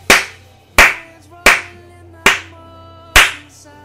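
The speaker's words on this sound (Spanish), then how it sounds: "Un aplauso, por favor." Five slow, separate hand claps, loud and close, each sharp crack fading quickly, spaced at an uneven rhythm with no talking.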